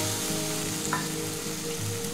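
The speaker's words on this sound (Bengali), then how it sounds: "এটা ভালো করে কষে নেব।" Spice paste with cashew paste and a splash of spice water frying in oil for a banana flower curry, giving a steady, close, even sizzle throughout with no talk.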